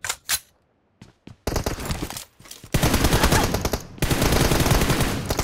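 Rapid automatic gunfire in a shooting video game, loud and close, arriving in dense sustained bursts after a few short opening shots and brief gaps.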